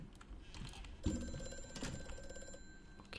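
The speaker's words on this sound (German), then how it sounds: "Okay, ein Telefon." A telephone rings in the horror game Amnesia: A Machine for Pigs, a single ringing burst of about a second and a half standing out over a dim, muffled room ambience.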